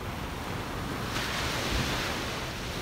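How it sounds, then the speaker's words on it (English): Loud ocean waves crash and roll onto a New York beach in a continuous roaring surf, with gusts of wind buffeting the microphone. "nice loud waves"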